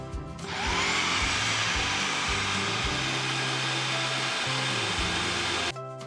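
A blender purees jalapeño green sauce with the seeds left in, running as a loud, steady motor whir from start to finish and cutting off sharply at the end.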